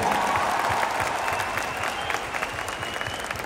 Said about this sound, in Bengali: জোরে হাততালি চাইবো সবাই কাছ থেকে।